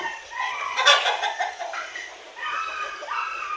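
Native hens clucking in a farm setting, soft rhythmic clucks and murmurs at moderate distance, continuous over a quiet background.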